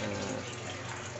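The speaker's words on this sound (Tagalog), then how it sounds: "Ipon na ako ng tubig para pambalaki ito." Water runs steadily from a tap to fill a container for laundry, a constant hissing rush heard close by with no voices.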